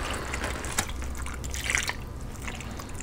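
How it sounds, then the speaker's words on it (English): Water is poured into the dish of a Hot Logic mini oven, a close, steady splashing trickle with a few sharper drips that runs for about three seconds, with no voices. "I'm gonna add some water into here."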